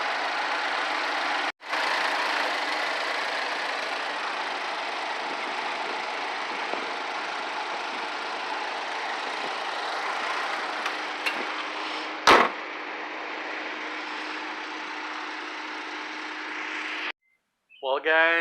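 A 2010 GMC Terrain engine idles steadily just after a serpentine belt replacement, a constant mid-pitched hum heard close up with one brief sharp knock near the end and no squeal.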